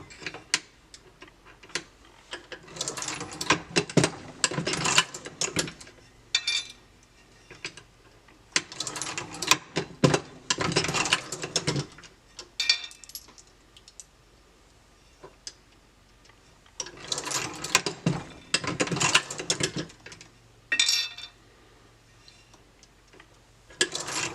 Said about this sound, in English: I'll take maybe 5 cartridges and I'll run them through my sizing die